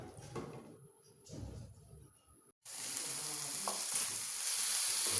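Chicken pieces seasoned with ginger and spices fry in a couple of spoonfuls of oil in a pot, first with some clattering stirring, then after a brief silence a loud, steady, close sizzle that holds on to the end.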